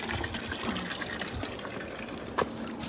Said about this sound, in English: Sound of water everywhere.